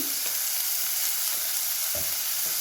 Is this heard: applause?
no